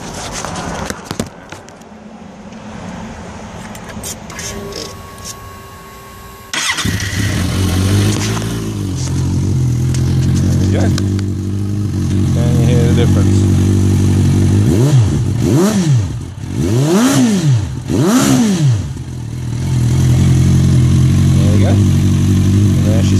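A Beowulf motorcycle engine fitted with a new baffled exhaust starts up loud and close, settling into a steady rumble, then revs hard several times in rising and falling sweeps before holding a strong idle; people talk over it at times.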